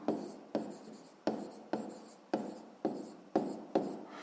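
A pen writes on paper during a sixth-grade math exercise, making soft scratching strokes. About seven short strokes repeat at a steady rhythm, close and quiet, with no voices.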